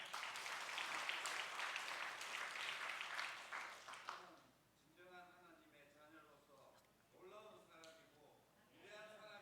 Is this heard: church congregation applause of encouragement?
yes